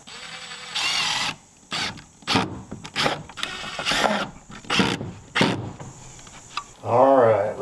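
A power drill drives screws during workshop electrical work, with repeated short whirring bursts of the motor separated by pauses, close and fairly loud, ending in a longer rising whine.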